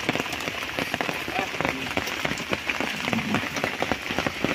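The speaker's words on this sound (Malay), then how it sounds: "Lama ni hujannya." Steady rain patters densely on umbrellas close by, a continuous crackle of drops with voices talking faintly underneath, while prawn fishing at a river.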